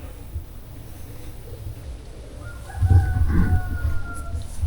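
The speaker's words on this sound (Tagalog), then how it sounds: "narinig akong manok." A rooster crows once, fairly near and clear, its drawn-out call rising over quiet outdoor background noise.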